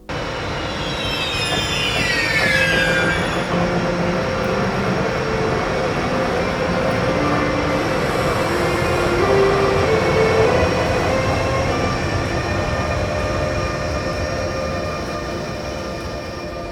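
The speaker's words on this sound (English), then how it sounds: "The train ran with ÖBB rolling stock and 2 Class 1116 locomotives," Passenger train of ÖBB rolling stock hauled by two Class 1116 Taurus electric locomotives at Ludwigshafen Central Station, rumbling past steadily with rail noise, a high wheel squeal early on and faint tonal whines.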